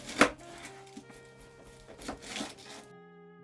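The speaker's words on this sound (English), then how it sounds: "gonna chop up this onion and this celery" Knife chopping onion and celery on a board for a small batch of chili: one sharp loud chop near the start, then a few softer irregular cuts and scraping, with a faint background hum.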